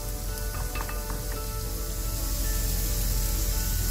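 Ground pork hits a hot pan of softened apples, giving a loud, steady sizzle that runs unbroken throughout, with faint scraping and stirring clicks near the start.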